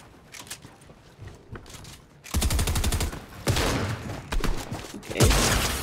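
Automatic shotgun fire in the video game Fortnite, a rapid string of loud, close shots bursting in after a quieter stretch, with sharp repeated blasts continuing to the end.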